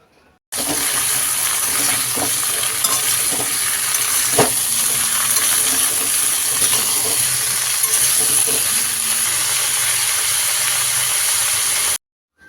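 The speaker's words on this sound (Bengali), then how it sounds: "তেলের মধ্যে আমি এই আলু আর কুমড়োটাকে দিয়ে কিছুক্ষণ ভেজে নেব" Potato and pumpkin pieces fry in hot oil in a wok with a loud, steady, close sizzle. Occasional clinks and stirring scrapes run through it for about eleven seconds, with no talk.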